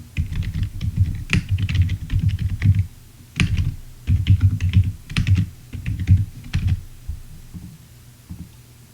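Fingers type on a computer keyboard, entering an account login, with bursts of rapid close keystrokes separated by brief pauses.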